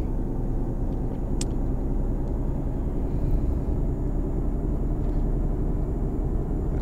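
A Volvo truck engine in Euro Truck Simulator 2 rumbles steadily as the truck drives, a low continuous drone with a brief faint click near the start.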